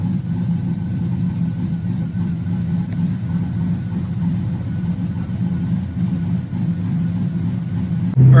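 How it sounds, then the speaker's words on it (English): An LS-swapped Chevrolet Caprice engine idling steadily with a deep, loud, even rumble throughout, rising sharply at the very end. "The car's been idling."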